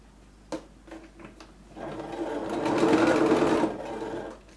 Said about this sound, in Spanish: cuando cosamos loneta